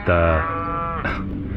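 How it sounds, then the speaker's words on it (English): Cows by a river let out a loud, close drawn-out moo, followed by a second shorter lowing call, with faint outdoor ambience behind. "have the chorus of the cows there"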